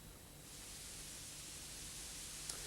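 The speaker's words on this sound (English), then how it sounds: "white noise, you'll remember, contains a whole range of frequencies. This is what it sounds like" Steady, even hiss of white noise that sweeps in over the first half second and then holds flat and fairly faint, broad and hushed, with a single tiny click near the end.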